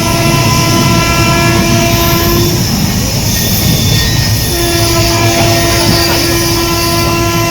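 A train departs a station with loud, sustained high-pitched wheel squeals and a horn-like tone over a heavy rolling rumble and clatter, close and continuous.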